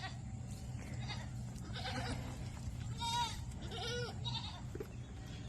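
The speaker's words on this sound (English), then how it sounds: "one of our fainting goats here." A fainting goat bleats twice in quick wavering cries, fairly close, over a low steady background hum.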